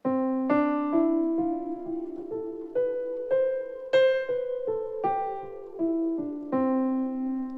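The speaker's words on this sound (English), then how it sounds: "So what is this major scale that we are talking about?" A piano plays a major scale, single notes one after another, stepping up and then back down in a steady, unhurried rhythm, each note clear and ringing.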